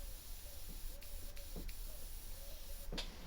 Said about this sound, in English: it's spraying again now